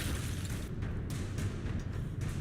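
A teapot cannon explosion in the video game Alice: Madness Returns, heard as a dense, continuous low boom and rumble filling the whole moment with no talk.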